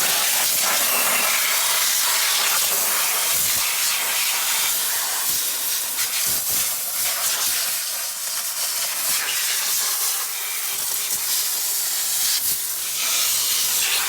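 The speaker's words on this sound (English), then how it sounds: "We got the engine all air blowed off." Compressed air blasts at a fire-damaged 1966 Ford Mustang engine in a loud, continuous hiss with sputtering bursts, sustained for a long stretch without pause.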